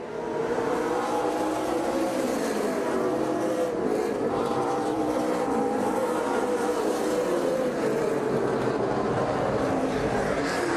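Super Late Model race cars circle Norway Speedway in a continuous, loud engine roar that swells and fades slightly as the pack races on, with no clear talk.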